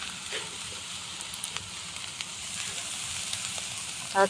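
Soybean vegetable cooking in oil and salt as it is stirred, a soft continuous sizzle with faint scraping stirring taps and a brief clatter at the end, fairly quiet and close.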